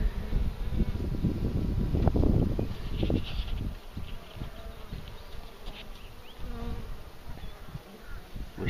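Honey bees buzz close by around a struggling hive in a dense, wavering drone, loudest early on and thinning out, with light wind rumble underneath.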